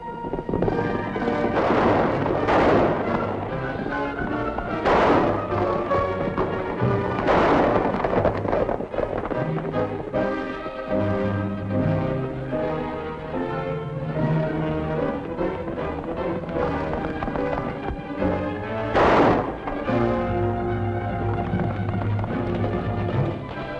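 Gunshots in an old western radio drama ring out as several loud booming blasts spaced apart, heavy and reverberant over a continuous music and sound-effects bed.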